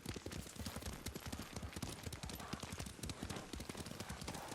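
Horse hooves clip-clopping in a brisk, steady rhythm during a ride in a samurai video game, close and continuous for several seconds.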